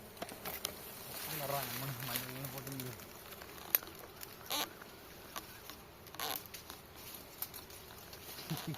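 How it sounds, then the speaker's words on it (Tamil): A swarm of bees rises and buzzes around a wild honey harvest in thorny scrub forest, a steady noisy hum under voices talking nearby. "பாருங்க எந்த அளவுக்கு கொசு கிளம்புதுன்னு"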